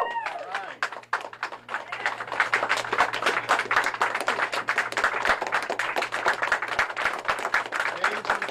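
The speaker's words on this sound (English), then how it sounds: "I say we give these guys a round of applause" Sustained applause fills a press conference room, many hands clapping steadily and densely for several seconds, with a few scattered cheers and voices mixed in.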